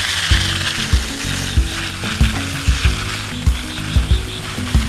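A battery-powered garden sprayer pump runs up close with a steady mechanical whir, its regular ratcheting pulses recurring roughly twice a second throughout over a faint hiss of spray.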